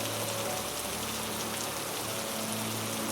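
Gentle, steady rain falling on a surface, a soft continuous patter with a low hum underneath, constant throughout and with no voices.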